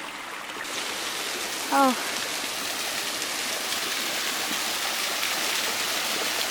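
A waterfall pours onto a beach on Islay, a loud, constant broadband rush of falling water up close; a person briefly exclaims over it near the start.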